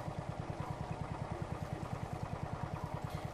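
A tractor engine in Farm Mechanic Simulator 2015 runs at a steady, even idle, with rapid regular low pulses that continue unbroken and fairly close throughout.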